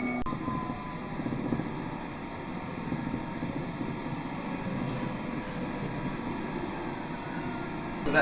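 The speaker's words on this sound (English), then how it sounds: "get on this train right here" A steady rumble of a London Underground train leaving Colindale Station, with a constant low roar and faint high tones, heard from inside the carriage.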